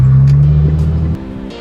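A Nissan GT-R R35 engine in race mode runs loud and close with a deep, steady tone, then drops abruptly to a quieter hum.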